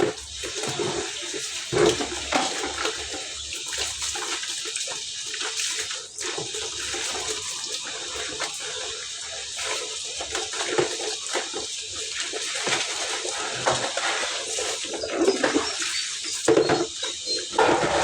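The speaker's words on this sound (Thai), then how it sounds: "ล้างด้วยน้ำเปล่า" Tap water running steadily as dishes or utensils are rinsed, a continuous splashing hiss with small clinks and fluctuations, no voices.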